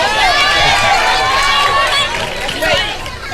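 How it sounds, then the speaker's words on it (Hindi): Sustained applause from a television studio audience on a Ramadan sehri show, loud and dense throughout, mixed with crowd noise and scattered voices. "बच्ची के लिए बहुत सारी तालियां।"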